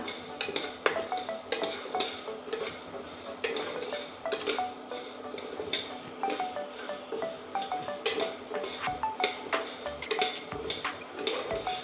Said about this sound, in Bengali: এবার সুন্দর করে নেড়ে নেব, অল্প ভেজে নেব, যেহেতু সাবুর পায়েস বানাবো।